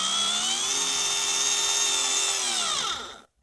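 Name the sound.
small 6-volt drill driving into laminate flooring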